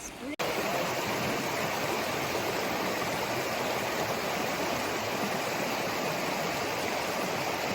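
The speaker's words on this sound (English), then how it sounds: "Coming up on a river." A mountain river rushes along a trail in the North Cascades, a loud, steady roar of flowing water that fills the whole stretch after a brief opening moment.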